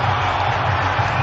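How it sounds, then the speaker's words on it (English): Dense cricket stadium crowd roaring steadily after a six is struck during an India versus Pakistan T20 final, a loud unbroken wall of cheering with no clear gaps. "Crowds love it."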